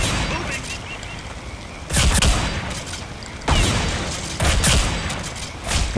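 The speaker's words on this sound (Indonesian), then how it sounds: "Waduh, shotgun." Shotgun fire in the video game Counter-Strike: Condition Zero Deleted Scenes, a forest map, comes as several loud, separate blasts spaced about a second or two apart over steady background game noise.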